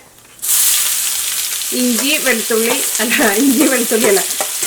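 Cumin and mustard seeds sizzle in a hot pan with a loud, steady hiss that starts abruptly and keeps going. A voice is heard partway through over the frying.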